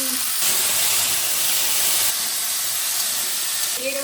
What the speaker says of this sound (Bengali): সবজিগুলো ভেজে নিচ্ছি